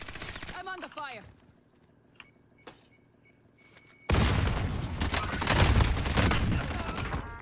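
Gunfire in Call of Duty Warzone: after a few scattered single shots and quiet moments, a loud, dense fusillade of rapid automatic fire breaks out and continues to the end.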